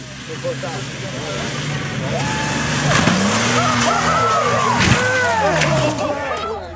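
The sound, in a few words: truck jump fail in a played viewer video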